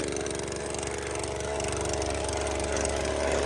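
A motorcycle engine running at a steady idle, a continuous low rumble with a fast, even pulse throughout, fairly close and unchanging in loudness.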